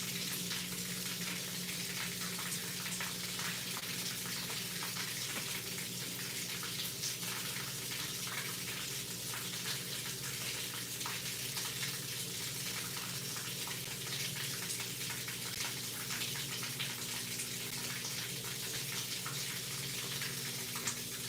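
A washing machine fills with water during a rinse cycle, giving a steady, faint hiss of rushing water that continues unchanged for the whole stretch.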